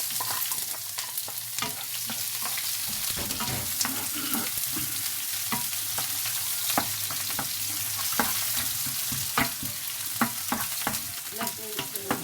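Garlic and onion fry in a pan for chicken stir fry rice, a steady close sizzle running throughout with scattered sharp crackles and stirring scrapes, no talking.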